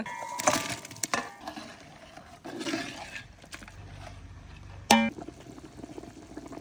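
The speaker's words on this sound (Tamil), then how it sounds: "மட்டன் கொதிக்குது." Mutton in spiced water bubbling and simmering in a pot, with clinks and a sharp knock partway through, moderately close with a low steady rumble.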